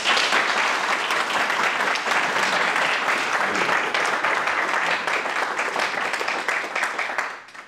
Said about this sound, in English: Applaud until her face turns red.